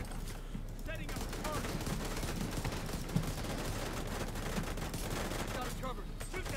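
Dense, continuous gunfire from the video game The Division 2, with rapid crackling shots and bursts at a moderate level under a busy game soundscape.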